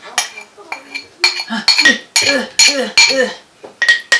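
A spoon stirs sourdough starter in a jar, tapping and clinking against the glass in quick irregular strokes, close and fairly loud.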